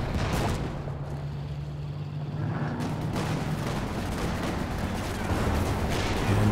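Twin Bren light machine guns fire in a Company of Heroes 2 battle, with rapid, dense bursts of gunfire rattling through a loud, continuous wash of battlefield noise.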